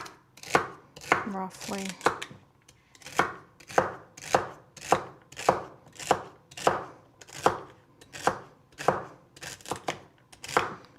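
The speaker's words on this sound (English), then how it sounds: "celery that I just washed, and I'm going to just chop it the same way" Organic celery is chopped with a knife on a board, sharp near knocks falling in a steady rhythm of roughly two per second, with a brief spoken word early on.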